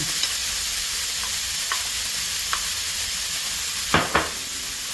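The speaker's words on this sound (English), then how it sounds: "Pan's nice and hot. We can get the onions in." Onions frying in a hot pan with shaved steak give a steady low sizzle and hiss, broken by a few soft stirring scrapes and two sharper clicks near the end.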